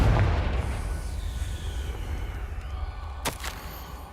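A Confringo spell blast in Hogwarts Legacy booms with a deep rumbling burst that decays over several seconds, followed by a sharp crack near the end.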